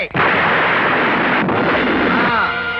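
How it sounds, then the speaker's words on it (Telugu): A loud bomb blast from a film court scene bursts in sharply and sustains as a dense, roaring rumble for nearly three seconds, with a brief dip midway before trailing off. "అది నేను నీ పెరట్లో పాతి పెట్టిన బాంబు"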